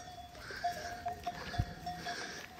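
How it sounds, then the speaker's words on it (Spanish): Sheep on a Merino farm, quiet distant livestock sounds with faint bell-like tinkles and soft bleats scattered over a low outdoor background, plus one brief thump. "Están obrando muy bien las ovejas."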